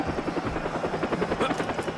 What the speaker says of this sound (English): helicopters are not friendly